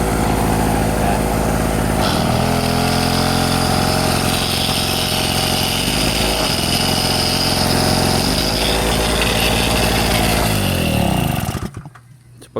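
A small portable generator engine running steadily with a weak electrical output, a loud, close, continuous droning hum that holds for several seconds before cutting off abruptly near the end.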